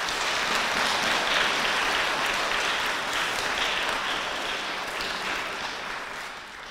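A crowd applauds at an elementary school Arbor Day ceremony in a dense, sustained wash of clapping that holds steady, then slowly fades near the end.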